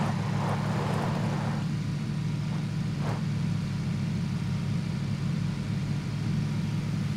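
Steady mid-pitched engine drone of a buggy in the PUBG battle royale game, running continuously throughout at moderate distance, with no voices over it.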